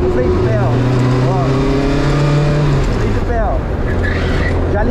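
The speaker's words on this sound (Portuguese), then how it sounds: "O freio motor é tudo pra esse kart" A 1000cc go-kart engine roars loud and close, its pitch sliding downward as it slows under engine braking, with tire and mechanical noise and a voice talking over it.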